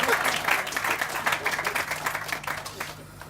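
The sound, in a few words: audience applause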